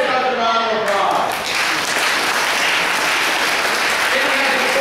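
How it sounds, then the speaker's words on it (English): Audience applause from a school assembly fills the whole stretch, a dense, steady wash of clapping heard up close and loud, with no talk over it. "Give yourself a round of applause."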